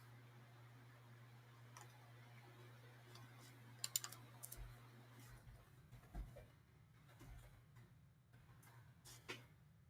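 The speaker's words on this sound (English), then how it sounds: "I'm typing it out" Quiet typing on a computer keyboard, with irregular clusters of light clicks and short pauses. A low steady hum sits under the first half.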